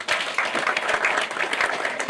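An audience at a political gathering in Kenya breaks into applause, a steady wash of many hands clapping at moderate loudness for about two seconds.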